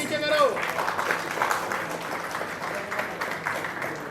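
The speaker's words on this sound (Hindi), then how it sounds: "जोरदार तालियां हो जाए गाइस।" Clapping from a small crowd at a film launch ceremony on set, a quiet, steady patter lasting a few seconds, with a voice briefly heard at the start.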